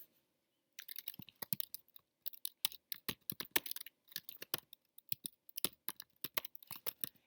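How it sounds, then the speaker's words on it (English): Fingers type on a computer keyboard in quick, irregular bursts of close, crisp key clicks with short pauses, alone and fairly quiet. "Whoops, I don't know if I can even copy that, so I'll just type it."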